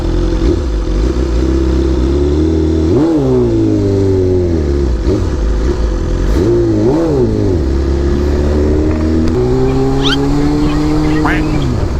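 Big bike motorcycle engine running close by, rising and falling through several revs with a loud, steady drone between them, and people talking over it.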